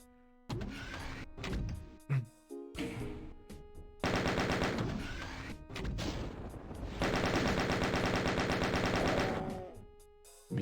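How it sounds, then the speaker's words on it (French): Gunfire in the video game Doom II: bursts of rapid automatic shots, loud and dense, alternating with short gaps and game effects over about ten seconds, with no talking. "Mais qui me tire dessus là?"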